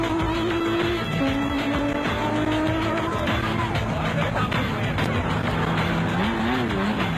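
Off-road race cars pull away from the start line at a 2002 race near Mmabatho, South Africa. Engines roar loudly and steadily with rising revs, under a commentator's continuous talk.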